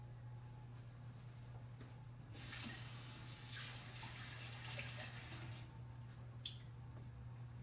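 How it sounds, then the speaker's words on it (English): Tap water runs over parsley leaves being rinsed, a quiet steady hiss that swells into a fuller gushing splash for several seconds over a low background hum. "I'm going to take our parsley leaves and rinse them."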